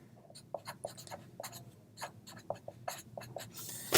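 A pen writes on paper at close range: quick scratchy strokes and taps in an irregular rhythm, fairly quiet, with no speech over it.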